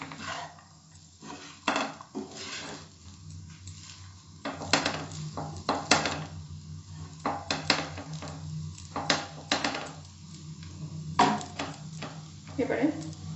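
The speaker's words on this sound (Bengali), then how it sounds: "ভাতের সঙ্গে মিশিয়ে দিচ্ছি।" Lemon rice being stirred and mixed in a pan, a spatula scraping and clinking against the metal in a steady, irregular rhythm, fairly faint and close.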